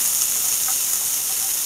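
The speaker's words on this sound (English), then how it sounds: "put the garlic and onion in, okay? And then saute them a little bit." Garlic and onion sautéing in a pan over medium heat for crab fried rice produce a loud, steady, close hiss of sizzling oil that runs through unbroken, with no talking.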